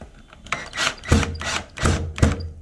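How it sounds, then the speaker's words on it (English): A screw is turned by hand with a screwdriver into an old wooden door, making four or five loud, close, rhythmic rasping creaks as it bites into the wood. "So now when I screw this all in, you don't want to over tighten it."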